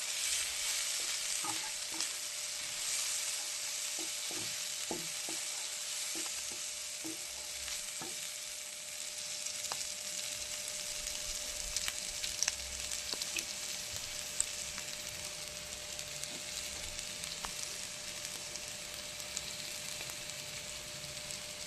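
Food fries in a pan with a steady bright sizzle and hiss, joined by scattered crackles and occasional stirring scrapes and clinks, continuous and close, with no voices.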